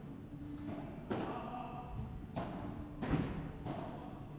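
A padel ball thuds against the glass wall of the court during a match, a few dull, faint knocks spaced a second or so apart.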